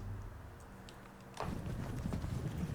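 Hooves start clattering midway through, a quick rolling clip-clop of several horses on the move in the video game Pike and Shot Campaigns, fairly soft and slightly distant.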